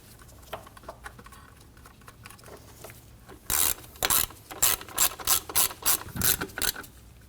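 A ratchet snugs 10mm bolts on a 2003-2006 Subaru Baja 2.5L H4 during an idler pulley job, with faint clicks and handling noises first, then a run of loud, rapid ratcheting bursts in quick rhythm, close by.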